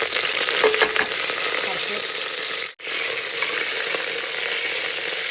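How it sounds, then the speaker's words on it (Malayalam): Cinnamon, cloves and biryani masala frying in hot coconut oil for an egg cooker biryani, with a loud, dense sizzle that cuts out for an instant midway and then resumes. "വെളിച്ചെണ്ണയും ഒഴിച്ചതിന് ശേഷം ഞാൻ നേരെ മസാല ബിരിയാണി മസാല ഉണ്ടല്ലോ കറുവപ്പട്ട ഗ്രാമ്പ് അതൊക്കെയാണ് ഞാനിടുക"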